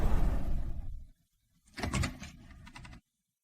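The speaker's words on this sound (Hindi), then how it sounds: "ठीक है, दरवाजा खोलो।" A door opens: a broad rumbling slide, a pause, then a short clattering scrape and a sustained rolling movement that stops abruptly.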